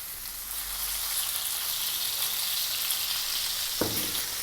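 Bone-in rib eye steak sizzling in olive oil in a pan, a steady bright frying hiss with a brief sharp clatter near the end, no talking.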